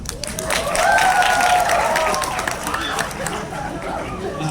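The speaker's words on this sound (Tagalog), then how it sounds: "So, palakpak ulit mo na lang." Audience applause at a family organization's anniversary gathering, a burst of clapping mixed with crowd chatter and voices talking over it, fading somewhat toward the end.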